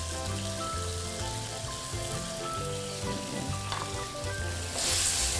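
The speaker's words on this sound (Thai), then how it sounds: "ก็ผัดให้ตัวมะเขือเนี่ยอ่อนนิดนึงนะครับ" Eggplant and pickled bamboo shoots stir-fried for Kaeng Ho, a northern Thai curry, crackle and sizzle loudly and steadily in the pan under a faint background hum, swelling briefly near the end.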